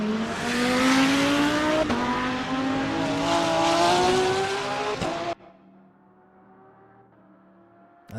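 A GT race car, with an Audi R8 on track, in a racing video game qualifying session, engine howling loud and rising through gears as it crosses the finish line, then cutting abruptly to a quiet idle hum.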